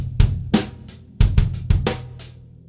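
A drum kit plays a funk pattern built around the bass drum, with sharp, close, punchy hits in an uneven syncopated rhythm and nothing else over it.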